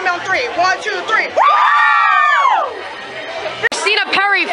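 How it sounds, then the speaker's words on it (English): A concert crowd screams on cue, a loud sustained burst of many high voices and cheers lasting over a second, with shouting and chatter before and after. "So just everyone scream on three."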